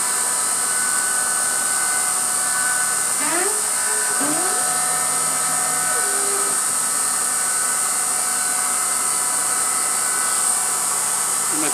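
An Emco F1 CNC machine drills a 6082 T6 aluminium wheel hub, a loud steady high-pitched whine with brief pitch shifts as the spindle and axes move, continuing throughout without talk.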